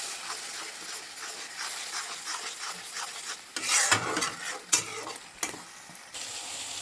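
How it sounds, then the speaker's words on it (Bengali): Prawn curry masala with chili powder being stir-fried in a pan, a steady soft sizzle with scraping spatula strokes that grow louder and sharper toward the end. "এটা বেশ ভালো করে কষে নিতে হবে"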